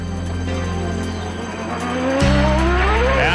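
Race car engines idle and rev together at Rockingham Motor Speedway during a 2001 CART FedEx Championship Series round, a loud steady multi-engine drone that surges sharply louder partway through as pitch climbs.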